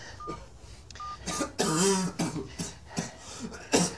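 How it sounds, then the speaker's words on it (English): A man coughs in several harsh, close bursts, with a strained, throaty sound mixed in. "He's coughing blood."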